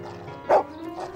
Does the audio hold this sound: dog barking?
yes